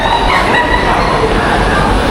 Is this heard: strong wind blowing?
no